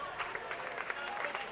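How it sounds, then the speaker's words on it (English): Crowd at a Gaelic football match between Rostrevor and Clonduff applauds substituted right corner back Aidan Cousins, a steady, fairly distant patter of clapping with crowd murmur throughout. "Aidan getting a well-deserved round of applause."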